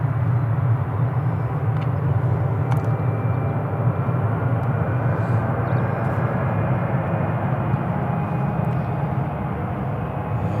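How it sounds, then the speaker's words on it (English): A KLM airliner passes at Newcastle International Airport, its engines a steady, loud low roar with broadband rumble that holds evenly throughout, with a few faint clicks on top. "Here comes the KLM."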